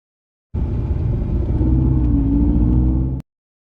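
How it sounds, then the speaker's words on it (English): A car passes with a steady, loud engine rumble lasting under three seconds, its tone sliding as it goes by, then cutting off abruptly. "our sounds of the car is changing because of the observer is changing its places"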